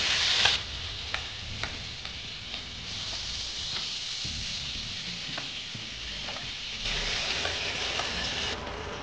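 Large freshwater prawns frying in hot oil give a steady close sizzle with light stirring scrapes and small ticks, continuous with no talk.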